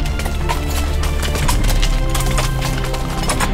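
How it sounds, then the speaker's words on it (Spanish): Horse hooves clip-clopping as a horse walks outdoors near a stream, a steady rhythm of fairly close hoof strikes over a continuous broadband background, with no talk. "Matías, súbase nomás al caballo"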